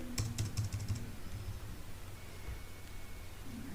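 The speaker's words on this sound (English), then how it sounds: "Now I am typing that." Quick bursts of keystrokes on a computer keyboard, a cluster of clicks at the start followed by sparse, faint taps over quiet room noise.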